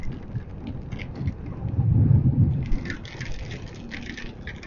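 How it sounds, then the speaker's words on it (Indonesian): Light rain falls during a motorcycle tour through fog, a soft patter under a low rumbling swell mid-clip, with faint irregular drops throughout. "Guys, ini keadaan sedikit hujan."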